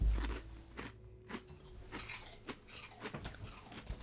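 A dog chewing crunchy crisps, hummus bites from Aldi, with repeated close crunching bites at an irregular rhythm and no talking.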